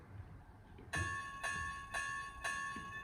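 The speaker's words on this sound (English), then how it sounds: "That's the bell." A small electronic bell on an HO scale model train locomotive rings four times at a steady, even pace, each strike bright and ringing over a quiet background hum.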